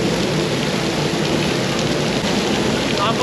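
Light rain drizzles outdoors at a riverside resort with a small waterfall in Infanta, Quezon, making a continuous soft patter and hiss that stays even throughout with no voices.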